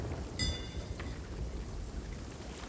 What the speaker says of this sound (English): I'd also like to draw attention to the sound of the raindrop landing on the roof.